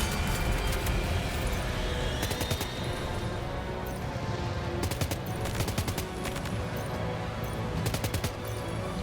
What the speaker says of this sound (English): It is a level 1 assault rifle